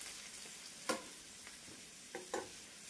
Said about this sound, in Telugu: ఇప్పుడు ఈ నూనెలో ఈ టమాటా ముక్కలు కూడా బాగా వేపుకుందాం